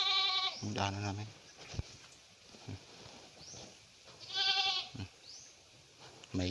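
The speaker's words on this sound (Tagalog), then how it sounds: "May kambing pa, manok." Goats bleat on a rural farm path, several distinct loud bleats spaced apart, with quieter rustling and outdoor ambience between them and a person speaking nearby.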